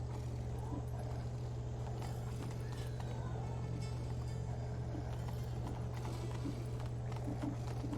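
Rapid horse hooves clopping in The Witcher 3 video game over a constant low engine-like hum, steady and unbroken, with no clear talking.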